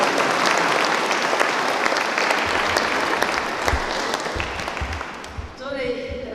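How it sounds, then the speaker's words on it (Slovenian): Audience applause for Barbara at a Museum Day concert, 'Four Elements': dense, sustained clapping from a large crowd that thins slightly toward the end as a voice begins. "En aplavz za Barbaro"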